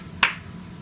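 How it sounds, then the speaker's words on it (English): A single sharp hand clap, or a snap, sounds once in a quiet room during a children's song activity with an infant. "clap your hands"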